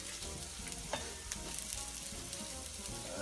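Sole fish with onion frying in hot oil, a dense, continuous close sizzle with faint crackles, no talking.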